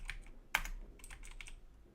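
A short burst of typing on a computer keyboard, several crisp, close keystrokes with one sharper key hit, in irregular rhythm and with no talking.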